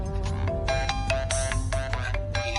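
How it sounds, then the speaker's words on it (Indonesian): A telephone ringtone rings in repeated electronic bursts with a steady melodic pattern, fairly loud and close, playing alone without talk. "Telepon."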